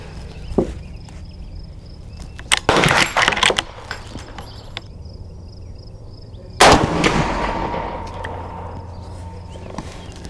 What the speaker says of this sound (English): Let's fire one more of the 170 grain